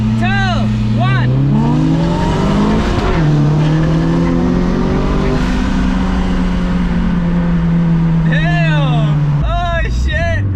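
A boosted 1.6-litre turbo Mazda Miata accelerates hard in a street race against a Nissan 350z, its engine note climbing loud and close through rising revs and gear shifts, with excited voices shouting over it inside the car.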